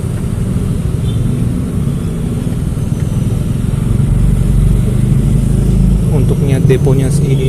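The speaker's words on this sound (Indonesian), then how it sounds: "Ini masih ada banyak kendaraan campuran motor." Mixed road traffic with motorcycles and cars heading toward a toll road near a Jakarta bus stop, a steady engine rumble and passing vehicles throughout, growing heavier in the second half.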